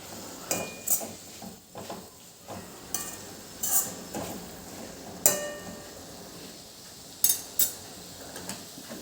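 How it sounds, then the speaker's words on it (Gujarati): Cabbage curry with beans stirred in a pot, a spoon clanking and scraping against the metal in irregular strokes, close and fairly loud over a low background hiss. "એક વખત હલાવી આપવાનું છે અને આવી રીતે એક વખત સરસ મિક્સ કરી લેવાનું"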